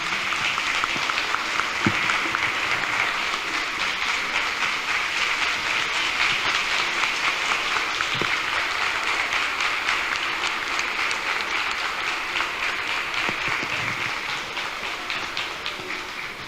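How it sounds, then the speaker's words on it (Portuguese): A plenary audience at a teachers' union congress applauds in a long, sustained, even wash of clapping that holds at a moderate level throughout and fades slightly toward the end, with no speech over it. "os aplausos são os agradecimentos dessa plenária"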